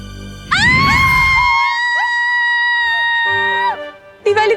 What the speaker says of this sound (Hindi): क्यों चिल्ला रही हैं आप?